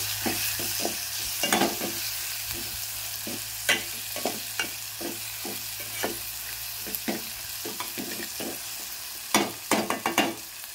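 A spoon stirs and scrapes around a hot pan where salt and turmeric powder fry in oil, giving a steady sizzle under a series of sharp, close clinks and scrapes, with no voices.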